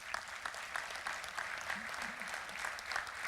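Sustained applause from an audience at a community foundation annual meeting, quiet and somewhat distant, with dense overlapping claps and a faint murmur of voices underneath.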